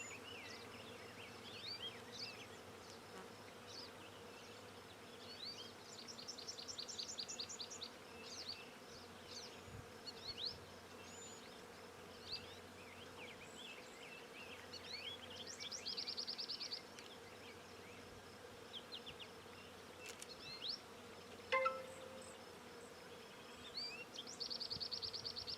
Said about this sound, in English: listen to the wilderness around us, including the bees and the flowering crab behind me.